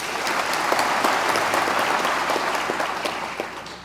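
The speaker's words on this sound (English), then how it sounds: "I would ask to hold your applause until the end, but they'd get pissed, so I'm going to have you continue to." Loud, sustained audience applause fills a white coat ceremony hall: dense, steady clapping from a large crowd, close and continuous throughout, gradually easing slightly toward the end.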